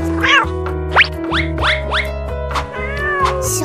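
A stray cat meows several times in quick succession, close and clear, each call a rising-then-falling wail over a steady low hum.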